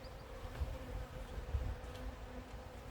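A dense, steady buzz of many bees close by, droning continuously with slight swells in loudness and no voices.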